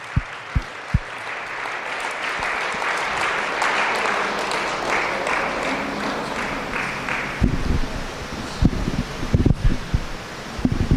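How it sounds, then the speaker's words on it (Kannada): A church congregation applauding loudly at a healing service, a sustained wash of clapping that fades out toward the end, where a few louder thumps and handling bumps take over. "ಅದಕ್ಕೆ ದೊಡ್ಡದಾಗಿ ಚಪ್ಪಾಳೆ ಹೊಡೆಯೋಣ"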